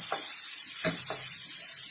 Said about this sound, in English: We want these chilies to fry a bit.